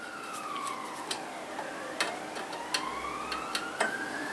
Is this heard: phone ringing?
no